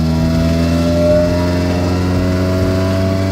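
A 1997 car with a ton of miles idles and revs through its exhaust, a steady, loud, close engine drone with a brief swell of revs near the start and no talking.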